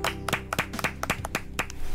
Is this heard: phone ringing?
no